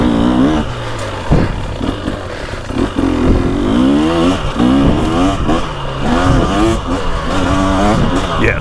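A Husqvarna TX300 two-stroke dirt bike rides through tight woods on a GP course, its engine revving and crackling steadily with rising and falling pitch throughout, loud and close with no talking.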